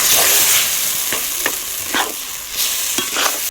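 Rice flour being mixed with hot milk in a pot, a hissing bubbling background with several sharp spoon scrapes spaced about half a second apart.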